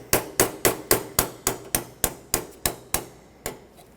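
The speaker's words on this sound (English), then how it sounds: "grab a punch and a hammer" Metallic hammer strikes ring out in a steady rhythm, about a dozen sharp close blows on a punch driving out a pin on a Toyota Tacoma vent window latch, slowing slightly toward the end.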